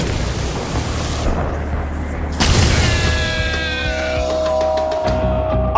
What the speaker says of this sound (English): Automatic turrets!